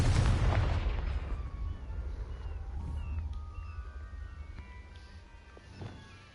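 A loud, booming Confringo blasting-spell explosion from a wizarding video game hits at once, then rumbles and fades over several seconds into a quieter tail with faint scattered pops.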